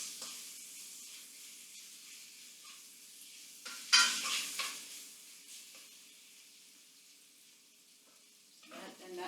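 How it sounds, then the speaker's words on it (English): Moose meat and potatoes browning in a pot for moose stew, stirred with a utensil: a faint steady sizzle, then a louder scraping stir burst near the middle and a brief clatter at the end, with no talking. "Just want to give a little stir to our meat here just so that we're evenly browning this meat."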